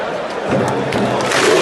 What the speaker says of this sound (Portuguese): A festa da torcida ontem